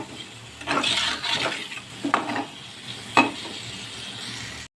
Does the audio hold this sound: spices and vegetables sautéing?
yes